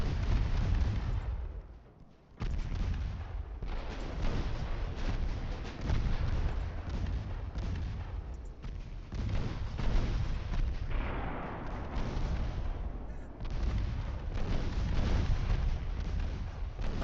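Destroyer guns fire in the naval warfare game Ultimate Admiral Dreadnoughts, a dense, continuous barrage of booming blasts and rumbling impacts that barely lets up, with one brief lull near the start.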